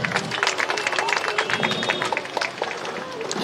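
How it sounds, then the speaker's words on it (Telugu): An audience at a school gathering claps for the mothers, a brisk burst of dense applause mixed with crowd murmur, steady and close throughout. "ఒకసారి అమ్మలకి మనం చప్పట్లు కొట్టుకుందాం."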